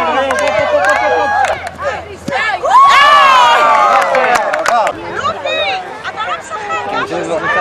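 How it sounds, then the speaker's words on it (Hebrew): A lively crowd at a family gathering cheers and shouts encouragement, with excited voices, children yelling and chatter overlapping in loud, uneven bursts close to the microphone. "תנו לו עידוד, תנו לו עידוד."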